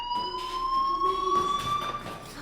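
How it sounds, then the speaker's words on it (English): A fire alarm rings in the video game Life is Strange, with steady electronic tones repeating in short pulsing bursts at moderate loudness and no speech over it. "Hey, do you hear that fire alarm?"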